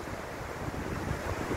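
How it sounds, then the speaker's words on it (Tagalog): Sea waves wash steadily along the Molo boulevard seafront in Iloilo City, a continuous moderately loud surf rush mixed with wind buffeting the microphone, with no voices. "yung mga alon."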